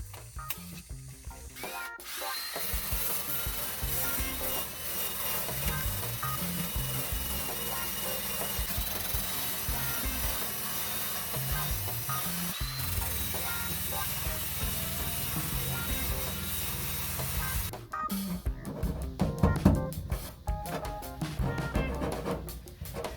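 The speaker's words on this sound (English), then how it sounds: "I have wire brush on the end of my drill." A drill-mounted wire brush scrubs rust from the floorboard of a 1989 Chevy truck, a loud continuous grinding and rattling whir that runs almost throughout, with a short pause near the start and choppier, uneven bursts near the end.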